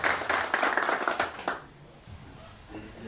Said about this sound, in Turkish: Süryani Cemaati temsilcisi Hanna Yılmaz Beyefendi'ye güçlü bir alkış istiyoruz.